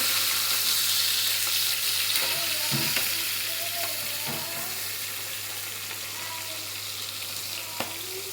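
Salmon fish pieces deep frying in hot oil in a pan, giving a steady, dense sizzle throughout with occasional faint clinks and pops close by, and no talking.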